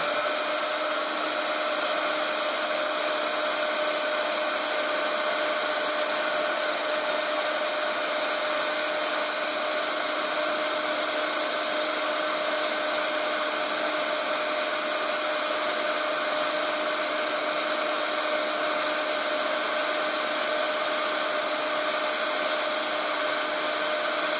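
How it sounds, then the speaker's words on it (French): Steady, close blowing roar of a heat gun running continuously for heat embossing, unchanging in level throughout, with no talking. "on va mettre en route le pistolet chauffant"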